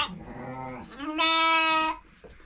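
A lamb bleats once with a long, wavering, clearly pitched cry, preceded by a softer, shorter bleat; close and loud with no talk over it.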